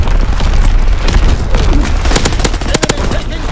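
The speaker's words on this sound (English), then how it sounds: "Incoming enemy artillery" Enemy artillery explosions in Call of Duty WW2 on the USS Texas, loud booming blasts and rapid bursts of gunfire under a radio-style voice.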